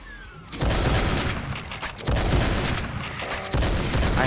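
Shotgun blasts in a Doom mod, three loud broadband bursts at roughly one-and-a-half-second intervals, each decaying into a dense rumbling tail with a continuous din of game combat underneath.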